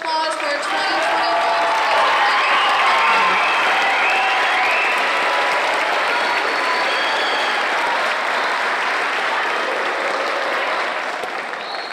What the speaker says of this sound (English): let's give one last round of applause for 2024